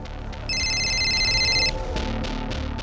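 A phone rings with a bright electronic ringtone burst in a police station scene, one sustained ring pattern lasting about a second over low background music, followed by faint clicks.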